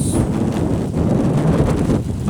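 Wind buffets a tent at a wild winter camp in North Wales, a steady close roar of gusting air across the microphone for a couple of seconds, with no voices.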